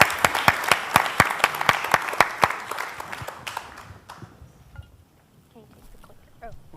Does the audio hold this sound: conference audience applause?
yes